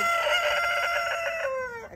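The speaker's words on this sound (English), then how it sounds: "You gonna crow us out?" A rooster kept with the hens crows once nearby, a loud drawn-out harmonic call that falls off and ends abruptly.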